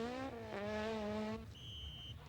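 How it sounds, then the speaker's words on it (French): A 1998 rally car at the Ypres Westhoek Rally in Belgium spins round, its engine wailing high then dropping as the tyres skid, heard faintly from a distance with no voices. "Trop nerveux, Pascal Gaban fait un tête-à-queue."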